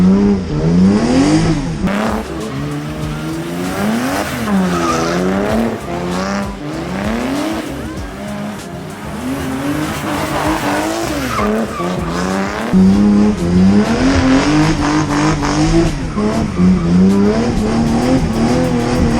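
A car skids through repeated left-foot-braking slides, tires squealing in rising and falling wails over a loud revving engine, sustained and close throughout.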